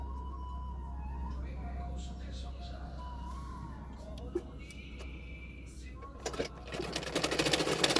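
Sewing machine stitching a blouse shoulder seam, a steady low motor hum with a light mechanical whir, growing busier and louder toward the end.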